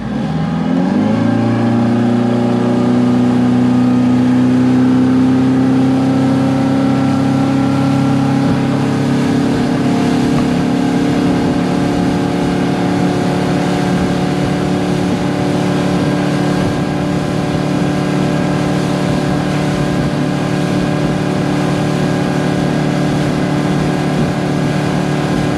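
A Robalo R180 motorboat engine opens to full throttle past a no-wake zone off Marco Island, Florida, rising quickly into a loud, sustained high-revving drone with steady water and wind noise, no talking.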